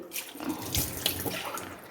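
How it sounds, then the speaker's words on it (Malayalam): Water splashes and gurgles briefly into a cooking pot of ash gourd curry, a short close pour with a bright, broadband wash. "അര ഗ്ലാസ് വെള്ളമേ ഒഴിച്ചിട്ടുള്ളൂ"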